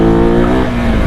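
A motorcycle engine revs hard and loud as the rider pulls up into a wheelie, a sustained droning roar up close.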